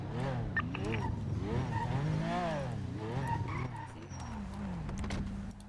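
A video game car's engine revs up and down in sweeping pitches with a tire skid as it pulls over to the roadside in a GTA roleplay scene. The engine stays loud and continuous, then settles toward an idle.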